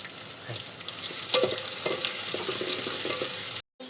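A paste of onion, tomato and green chili fries in hot oil with cumin, giving a steady close sizzle with occasional scraping stirs before cutting off abruptly.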